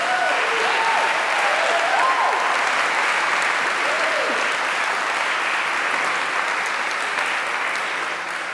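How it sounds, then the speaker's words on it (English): A large audience at a formal oration event applauds award-winning students, dense continuous clapping filling the hall at an even level, with a few faint tonal sounds early on and no voices over it. "Please join me in a further round of applause to celebrate these outstanding students."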